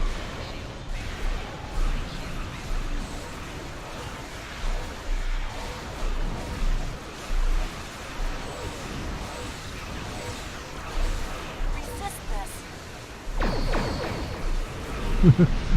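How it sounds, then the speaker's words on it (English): Space battle in the game Star Trek Online: scattered booms, crashes and whooshing weapon bursts rise and fall over a low rumbling background, with a sharper cluster of blasts near the end. "Let's see if I can get some explosions going here."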